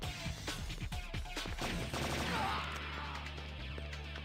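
Pistol gunfire in the video game Blade 2, a rapid string of sharp shots in the first two seconds followed by a steady low game hum and clattering effects.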